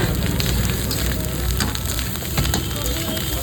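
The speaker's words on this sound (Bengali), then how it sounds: "দেখো ফ্রাইড রাইস হচ্ছে।" Fried rice sizzling on a street-food stall as it is stir-fried, a dense continuous crackle and hiss with scattered clicks of the utensil against the pan.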